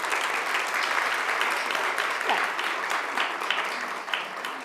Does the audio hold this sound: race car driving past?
no